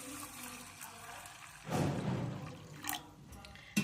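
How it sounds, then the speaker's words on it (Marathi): Water is poured into coarsely ground wheat mixed with a little semolina for a festive wheat kheer. A short splashing pour of about a second is heard up close over a quiet background, followed by a few small drips and a clink. "आता ह्याच्यात पाणी घालायचं."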